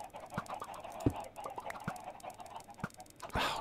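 Minecraft chickens cluck in short, scattered bursts at moderate level over faint game background noise, with occasional clicks and thumps.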